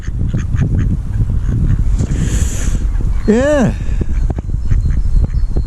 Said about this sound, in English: You can see how cheeky these ducks can get, because they come right close to you.